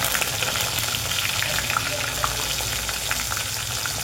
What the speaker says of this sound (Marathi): तेलामध्ये वांगी तळून घ्यायची चांगली.